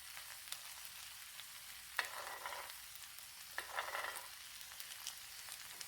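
Egg fries and is scrambled in a pan, a quiet steady sizzle broken by two bursts of scraping stirring strokes, heard close with no talking.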